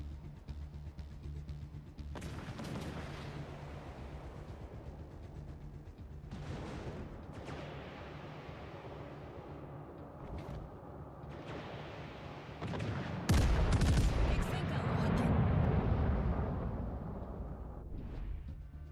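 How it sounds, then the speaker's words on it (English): Heavy warship naval gunfire in World of Warships, a string of deep booming salvos and rumbling blasts, with a loud, sustained barrage near the end. "Concentrate fire on that enemy warship."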